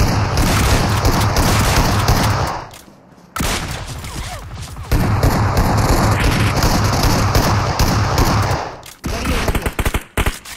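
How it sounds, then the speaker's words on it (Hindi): Rapid bursts of shotgun fire from the BGMI video game crackle loudly and densely, with two short pauses between volleys and a scattered final burst of shots. "इतने अच्छे शॉट गन बजाए"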